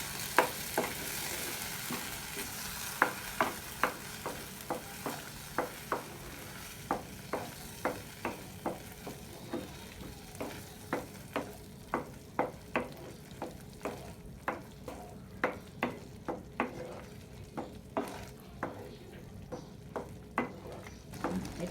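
Boiled taro greens being stirred in a pan, with a steady run of sharp scraping strokes over a faint background sizzle, close and fairly loud, no voices.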